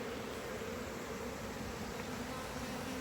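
Honey bees hum in a nuc hive, a close, steady droning buzz that stays even and unbroken, with no voices over it.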